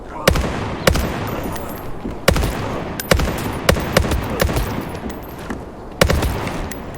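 Repeated bursts of UMP submachine gun fire aimed at zombies in The Day Before survival shooter, irregular short volleys and single cracks spread over several seconds, loud and close over a dense game ambience.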